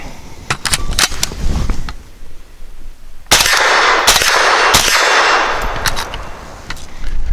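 Gunshots from a Definitive Arms AKX-9 firing Heavy Shot 100 grain frangible non-toxic rounds, a string of sharp, loud reports with metallic ringing, some fired in quick succession, others spaced apart, with no talking.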